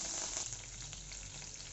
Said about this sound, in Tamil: ஆயில் ஹீட் ஆயிட்டு எடுத்து வச்சிருந்த பட்டை கிராம்பு கட் பண்ணி வச்சிருந்த புதினா மல்லி இலையில பாதி சேர்த்துக்கோங்க.